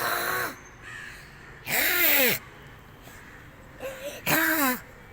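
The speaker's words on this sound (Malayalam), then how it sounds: "ആൽമരത്തിൽ നിറയെ കാക്കയുണ്ട്" Several crows caw loudly from a banyan tree, harsh calls coming in separate bursts with short pauses between them, close by and without other sound over them.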